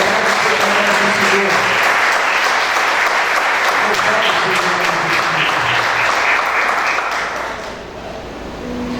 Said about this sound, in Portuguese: Dá uma salva de palmas para esse Jesus.